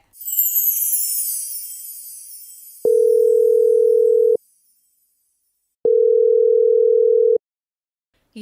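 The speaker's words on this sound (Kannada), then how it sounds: "ಬೆಳಿಗ್ಗೆಯಿಂದ ಫೋನ್ ಮಾಡ್ತಿದ್ದೆ ಫೋನೇ ಎತ್ತಾ ಇಲ್ಲ" An unanswered telephone call: after a short whooshing swell, two long, steady ringback tones sound about a second and a half each, separated by silence, clean and alone.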